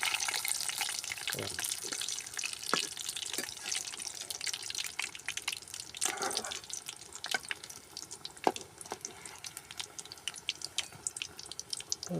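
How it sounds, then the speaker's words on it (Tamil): A ladle is washed under running water at a village outdoor cooking spot, a continuous splashing tap stream with drips and a few metallic knocks, close by, while frying sizzles faintly behind and no one speaks. "கரண்டியை கழுவு"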